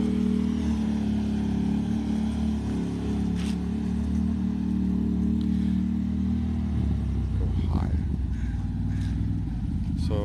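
Can-Am Maverick Sport XMR 1000r side-by-side engine pulling steadily while driving on a trail, a continuous low rumble that deepens and grows rougher near the end as it works harder.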